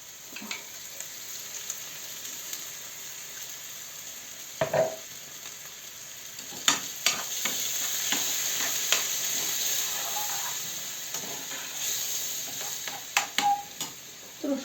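Steady sizzling of onion and mushrooms frying in a pan, a continuous hiss broken by occasional pops and scraping clicks as it is stirred.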